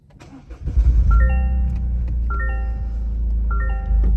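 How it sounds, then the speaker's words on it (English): A 2024 Toyota GR Corolla Premium engine cranks and fires up close by, flaring into a brief rev before dropping to a steady idle, with a few chime tones sounding inside the cabin. "Let's go ahead and start the car here."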